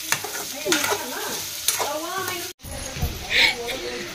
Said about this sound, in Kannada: ಇವಾಗ ಚೆನ್ನಾಗಿ ಮಿಕ್ಸ್ ಮಾಡ್ಕೊಳ್ಳೋಣ್ರಿ. ಇದು ಎಣ್ಣೆದೊಳಗೆ ಸ್ವಲ್ಪ ಹೊತ್ತು ಫ್ರೈ ಆಗಕ್ಕೆ ಬಿಡೋಣ್ರಿ.